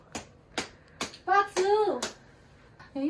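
A few sharp hand claps, spaced apart, in a room during a birthday hotel stay, with excited voices and exclamations breaking in between them.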